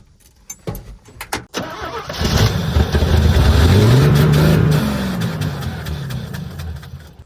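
A car engine with a freshly repaired fuel pump cranks and catches on its first cold start of the morning, then revs up loudly and settles into a rough idle, close by.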